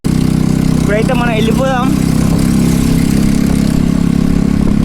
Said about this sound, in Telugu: మన బుల్లెట్ ఘోరంగా సౌండ్ వస్తుంది